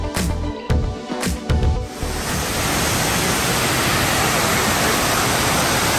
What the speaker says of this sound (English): Here's the falls in Greenville, South Carolina